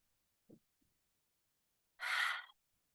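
A single slow, audible breath is taken during a yoga meditation, with faint soft sniffs followed by one clear, close, sighing exhale in an otherwise quiet room.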